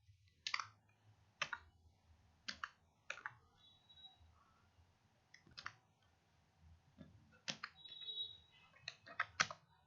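Computer keyboard keys tapped in short, irregular bursts of crisp clicks, close and fairly quiet, with pauses between groups of keystrokes and no speech.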